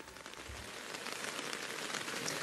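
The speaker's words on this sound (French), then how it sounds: "Que serait un festival de la ruralité, l'automne sans une pluie battante qui démarre quelques minutes seulement avant le direct?" Heavy, steady rain pours down at an outdoor autumn rural festival in Corsica, a dense continuous hiss of drops striking surfaces that stays loud throughout with no voices.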